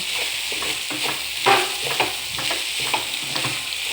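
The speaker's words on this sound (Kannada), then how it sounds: "ಈ ಥರ ಮಿಕ್ಸ್ ಮಾಡಬೇಕು ನೀಟಾಗಿ ತುಂಬ ಮಿಕ್ಸ್ ಮಾಡಬೇಕು" Gozzu avalakki (flattened rice) stirred in a pan over low flame, a steady scraping and soft sizzle with repeated spatula strokes, close and continuous, no talking.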